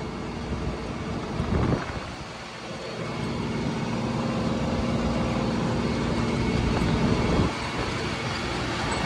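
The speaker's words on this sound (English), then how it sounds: "this is not the tractor that I wanted to be driving today" A two-wheel drive tractor engine drones steadily nearby as it works a field, a broad low rumble lasting throughout with two brief louder surges, no voices.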